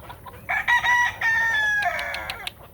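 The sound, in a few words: cream legbar rooster crowing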